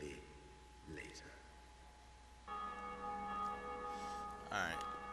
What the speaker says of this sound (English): Oh, bells and stuff too.